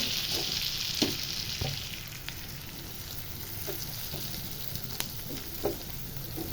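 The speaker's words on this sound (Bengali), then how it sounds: "চিংড়ি মাছটা দিয়ে একটু কষিয়ে নিয়ে তারপর হালকা ঝোল দিয়ে দেব" Prawns frying in a thick spice masala for a prawn dopiaza, a moderate continuous sizzle punctuated by scattered clicks and scrapes of stirring, with no talk.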